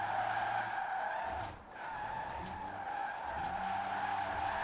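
Tires skid and squeal on an electric drift car in Forza Horizon 4, a steady, loud screech with sustained tonal whine and no engine roar, dipping briefly mid-way before resuming.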